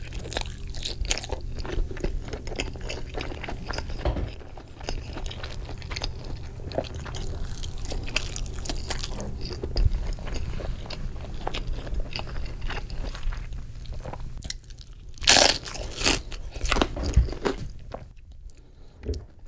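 A tamale with soft, firm masa, cheese and pepper, bitten and chewed close to the mic: continuous wet, squishy mastication with crunchy crackles and scrapes, loud and intimate, no talking.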